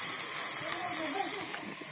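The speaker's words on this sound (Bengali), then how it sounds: "ভালো করে কষিয়ে নিচ্ছি।" Cabbage fritter and potato curry sautéing in a pan, giving a faint, steady sizzling hiss with light bubbling throughout.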